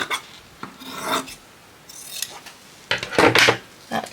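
Scissors cut through fabric to remove a large label, giving close, dry rasping snips in uneven bursts with short pauses between them.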